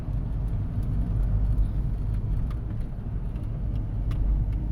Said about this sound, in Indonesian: suara mesin jeep menderu berat